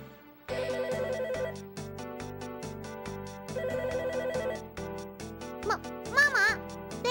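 A telephone ringing in the video game Magical Girl Pretty Sammy, a repeated electronic ring in two bursts over light game music, with a voice speaking near the end.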